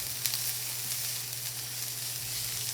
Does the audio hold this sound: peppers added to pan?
yes